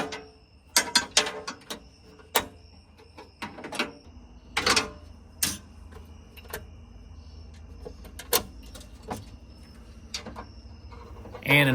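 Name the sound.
tightening bolts on a Bronco tailgate table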